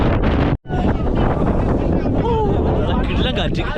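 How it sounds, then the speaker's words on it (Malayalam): Strong wind buffeting the microphone on a hilltop at the Thalanar Estate in Valparai, loud and continuous with a brief dropout early on, a voice speaking under the roar. "കാറ്റടിക്കുന്നതുകൊണ്ട് എനിക്ക് വോയിസ് എത്രത്തോളം കേൾക്കുന്നുണ്ടെന്ന് അറിഞ്ഞൂടാ"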